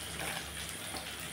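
Mixed vegetables are tipped into a pot of simmering mung dal: a steady, fairly close rushing splash and hiss that fills the whole moment, with no voices.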